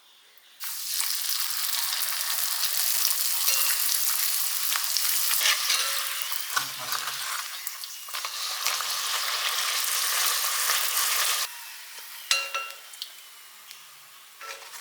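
Puri deep-fries in coconut oil in a small pan, a loud, continuous close-up sizzle for about eleven seconds that then drops away, leaving light clinks of utensils.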